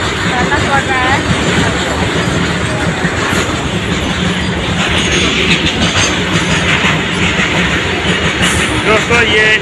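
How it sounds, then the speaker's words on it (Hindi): Train passing along a railway line near a level crossing, a loud continuous rumble with clattering wheels and metallic squeals close by, while people talk over it. "इसमें देखिए एक ट्रेन था वो पार हो चुका है"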